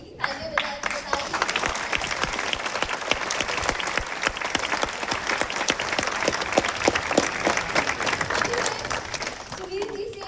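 A theatre audience applauds after a stage play, with dense, sustained clapping from a crowd that stays loud and even throughout and fades slightly at the end.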